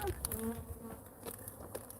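A swarm of bees buzzes steadily and close throughout, a dense insect drone with a few sharper passes as individual bees fly near.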